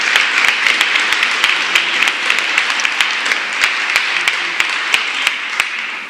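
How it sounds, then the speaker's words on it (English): Applause for the organizers of an International Women's Day celebration, a steady crowd of clapping with crisp individual claps standing out, continuous and fairly loud for the whole stretch. "Please give them a round of applause for all their hard work."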